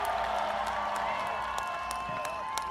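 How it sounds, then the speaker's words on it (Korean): Large outdoor political rally crowd in Yeouido, Seoul, applauding and cheering in a dense continuous wash of clapping and shouts, loud and close, with a voice audible over it. "큰 박수 함성 부탁드립니다"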